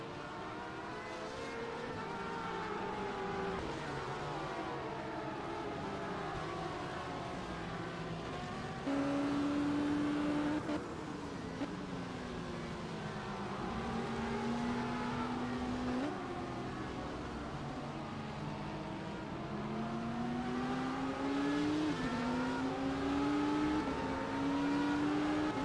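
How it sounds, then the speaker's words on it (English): Several LMP2 prototype race cars weave through slower GT traffic in a racing video game, high engine whines rising and falling through gear changes, overlapping continuously at steady loudness with no talk. "these LMP2 cars starting to navigate this GT traffic"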